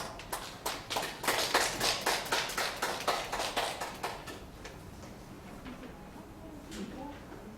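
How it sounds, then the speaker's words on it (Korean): Assembly of office-building owners clapping in approval of the newly elected chairman, a burst of rhythmic, fairly loud claps for about four seconds that fades into quiet room murmur. "모두 박수로 동의해 주시기 바랍니다"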